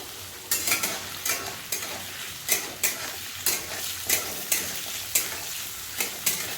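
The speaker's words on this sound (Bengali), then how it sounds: "লাল করে ভেজে নিই।" Potato pieces frying in oil in a pan, a steady sizzle broken by regular scraping stirs roughly every half second, close and fairly loud with no talking.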